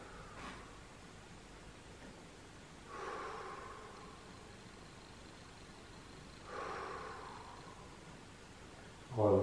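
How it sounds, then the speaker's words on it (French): Deep breathing during a leg stretch: slow, soft inhales and exhales spaced a few seconds apart, faint over a quiet hiss of room noise. "Quelques respirations."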